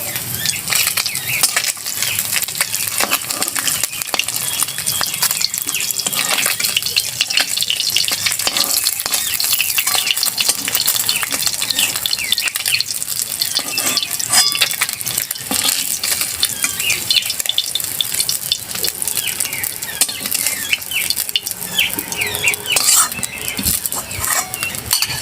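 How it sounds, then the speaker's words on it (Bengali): Mixed fish frying in hot oil, a dense steady crackling sizzle that runs loud and close without a break, with no talking. "আমার মাছ ভাজা হয়ে গেছে, এবার একটা একটা করে তুলে নেবো"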